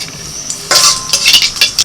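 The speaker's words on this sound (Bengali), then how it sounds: "কড়াইতে দিয়ে দিচ্ছি সর্ষের তেল" Whole cumin seeds dropped into hot mustard oil in a wok, giving bursts of bright crackling sizzle after a quiet start, with sharp spits and pops close by and no talking.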